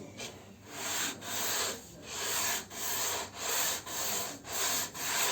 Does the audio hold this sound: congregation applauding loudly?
no